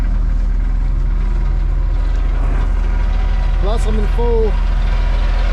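A mini excavator engine runs at full throttle while digging a pond keyway, a steady, loud, low drone throughout, with someone talking over it and a brief whine near the end.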